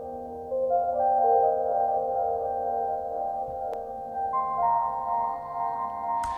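Soft synth keys from a minimal microhouse track in Logic, heard dry without chorus: gentle sustained chords that overlap and layer, plus one brief click. The sound is quiet and close, with no talking.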